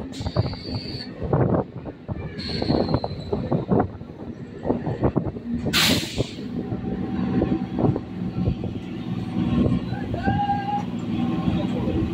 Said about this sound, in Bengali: আমাদের ট্রেন এখন সোদপুর স্টেশন ছেড়ে বেরিয়ে যাচ্ছে